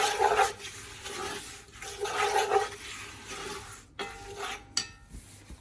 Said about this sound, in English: We're going to stir that together